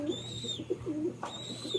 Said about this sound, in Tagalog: mga kalapati natin mga tropa